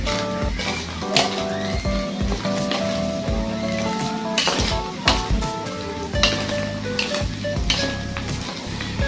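Bopis ingredients sautéing in a pan give a loud steady sizzle with clinks and stirring scrapes, with a faint voice and music murmuring underneath.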